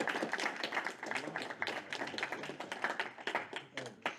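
A classroom crowd breaks into sustained applause for a speaker, with dense overlapping claps running steadily for several seconds at moderate volume and no voices on top.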